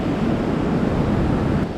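Surf rolls in continuously on a deserted tropical island beach lined with coconut palms, a close, steady wash of waves mixed with wind buffeting the microphone.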